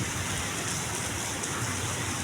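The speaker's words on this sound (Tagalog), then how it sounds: "Ang lakas ng ulan." Steady, heavy rain pours down continuously, a dense hiss with no break.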